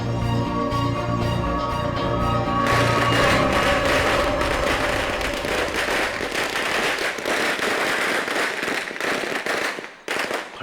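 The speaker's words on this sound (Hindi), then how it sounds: "पटाखे तो फूट गए" Rapid bursts of firecrackers popping and crackling continuously, loud and dense, over a background of music or noise that fades near the end.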